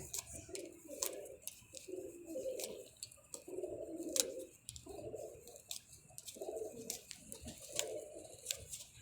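Pigeons coo in repeated soft, low bursts, fairly close and quiet, with faint chirps between the calls.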